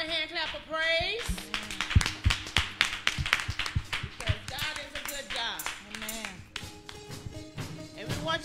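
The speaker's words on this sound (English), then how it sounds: "Give the Lord a hand clap of praise." A church congregation claps their hands in praise, a steady rhythmic run of sharp handclaps under voices and sung or spoken worship, moderately close in a reverberant hall.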